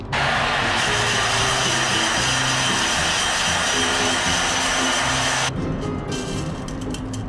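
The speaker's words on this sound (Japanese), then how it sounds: "ドライヤーを使って急速に冷ましていきます。" A hair dryer blows cool air over freshly roasted coffee beans, a loud, steady, close whooshing drone that runs almost the whole clip, easing slightly near the end.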